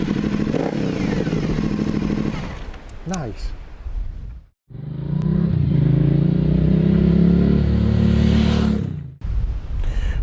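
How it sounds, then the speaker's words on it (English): An Aprilia Shiver 900 motorcycle engine rumbles and revs up loudly nearby, drops briefly to silence, then roars again in a long sustained rev; a voice speaks a word over it. "And what about the sound of this bike?"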